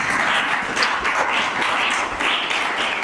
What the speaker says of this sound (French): Encore plus d'applaudissements pour le coach Rollins.